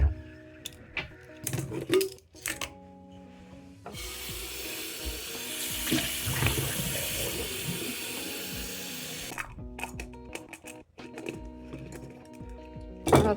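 Pet water bottles are swished and rinsed, then filled under a running tap. Short clinks and rubbing handling noises come first, then a steady rush of water for several seconds, then more bottle handling and knocks.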